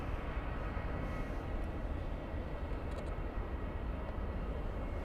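Discover Airlines Airbus A320 moving on the ground at Munich airport, a steady broadband engine roar that holds level and fairly distant throughout, with no voices over it.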